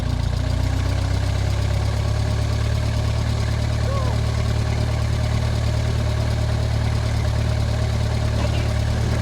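A Ford Model T engine runs steadily, giving a continuous low, rumbling drone close by, with people talking over it throughout.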